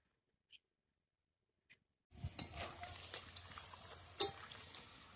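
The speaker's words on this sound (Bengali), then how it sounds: "ধীরে ধীরে জাল দিয়ে আমি আলুগুলোকে আবার নেড়ে চেড়ে ভেজে নেব।" Potato chips frying in oil start after two faint taps of near silence, then a close, moderate sizzle with bright scraping stirs and a sharp clink of a utensil against the pan.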